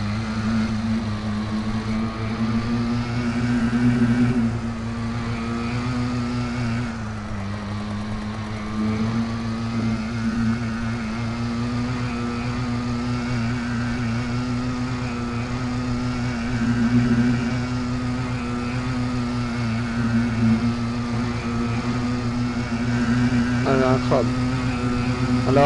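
A motorcycle rides around a farm in Farming Simulator 22, its engine droning steadily and close with small shifts in revs throughout, while someone talks over it.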